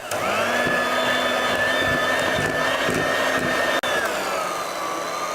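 Hand mixer whisking hot syrup into egg whites, a steady loud whine running continuously throughout with one brief dropout near the end.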